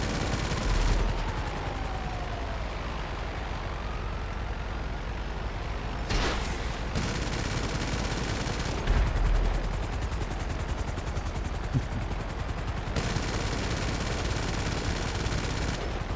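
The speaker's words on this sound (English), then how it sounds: "This alternating cannons are a pain in the ass sometimes." Rogue jet cannons fire in the game GTA Online, a rapid, continuous mechanical rattle that runs almost without a break, with brief louder bursts over a steady background roar.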